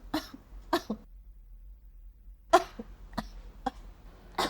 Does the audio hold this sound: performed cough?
yes